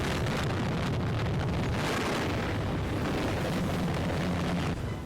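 Anti-aircraft fire and a British warplane attack roar in old archival war film footage, a sustained loud barrage of booming explosions and rushing noise with no voices over it.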